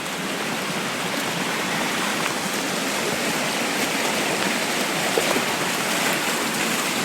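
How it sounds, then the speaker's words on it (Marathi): Floodwater rushes across a village farm field after heavy monsoon rain, a continuous, loud, broadband gushing like a stream, steady throughout with no talking. "पाणी बघा मंडळी खूप पाणी आलंय"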